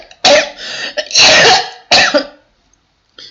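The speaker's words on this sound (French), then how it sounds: "Je tousse parce que je suis malade." A sick woman coughs hard three times in close, loud bursts with short gaps between them, then falls silent, and no speech is heard.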